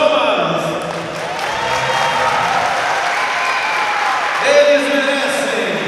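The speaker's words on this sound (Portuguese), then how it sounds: "Uma calorosa salva de palmas." Applause from an audience at a school ceremony for municipal students in Artur Nogueira, a sustained mass of clapping with voices and whistles mixed in, swelling slightly near the end.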